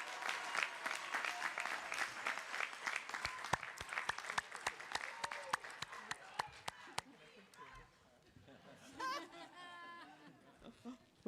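A graduation ceremony audience applauds, dense clapping with scattered sharp claps and some cheering, thinning out toward the end as a voice and murmuring take over.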